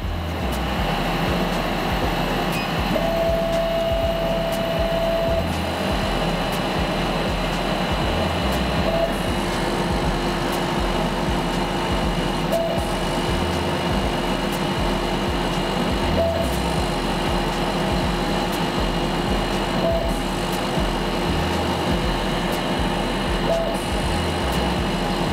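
A CNC laser cutting machine runs over a pin table, producing a steady rumbling hum with a faint constant whine and occasional brief higher tones, unbroken for about twenty-five seconds.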